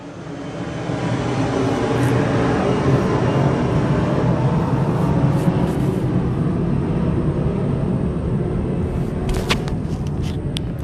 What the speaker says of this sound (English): after the airplane passes?